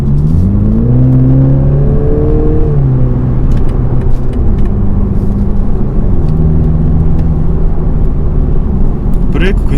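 A BMW Z4 sDrive20i drives in sport mode, its engine note rising and falling through gear changes as a steady road rumble and tyre noise carry on underneath, loud and close from inside the car.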